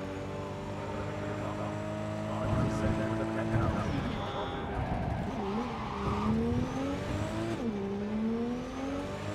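Engine of the Coyote car being driven in Cyberpunk 2077, a steady humming drone with rising and falling revs and a brief squeal, under someone talking.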